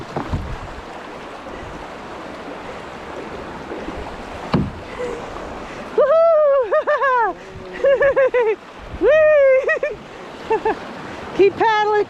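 A raft is paddled through whitewater on a guided river run, with a constant rushing roar of fast water close by and people shouting over it in the second half.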